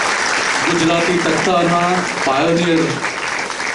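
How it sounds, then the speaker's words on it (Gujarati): An audience at a Gandhinagar cultural forum acting event claps to welcome the chief guest, a steady wash of applause under someone speaking into a microphone. "આપણે તાળીઓથી વધાવીએ શ્રી સુરેશભાઈ રાજડા"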